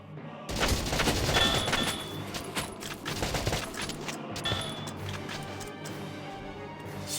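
Gunfire in the video game Valkyria Chronicles Remastered, a dense burst of rapid shots and impacts that stays busy and fairly loud, then thins into scattered reports.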